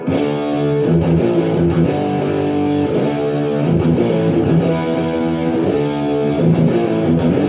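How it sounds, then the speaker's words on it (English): Heavily distorted electric guitar playing loud, thick palm-muted riffs with chugging rhythm and sustained chords, close and alone without talk. "it's just like a fuller distortion that works for everything"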